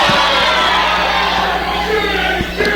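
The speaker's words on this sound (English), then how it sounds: "listen to that crowd" A wrestling crowd at a match roars and cheers loudly and continuously, with whoops and shouts rising over a dense, sustained wall of noise.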